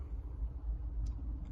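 A car moving through slow traffic gives a low, continuous rumble heard from inside the cabin, with a brief faint tick near the end and no voices.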